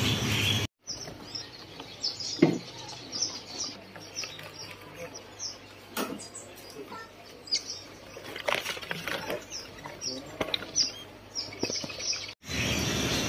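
Many small caged birds, including zebra doves, chirp and tweet in a busy indoor bird shop in East Jakarta, with occasional wing flutters and a person talking over the calls.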